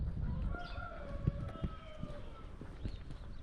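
A rooster crows once in the middle distance at an archaeological ruins site in Israel, a drawn-out call over a quiet outdoor background with a few soft knocks.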